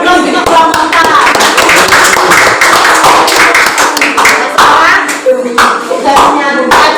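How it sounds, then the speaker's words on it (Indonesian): A classroom of students applauds group four with a burst of dense, close hand-clapping that tapers off, mixed with overlapping voices and chatter. "Berikan aplaus untuk kelompok empat."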